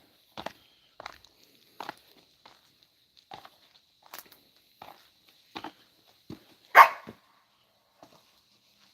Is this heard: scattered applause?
no